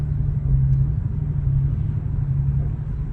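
A cheap used Bentley idles roughly, its engine giving a steady low rumble with an uneven, lumpy throb that pulses throughout at close range.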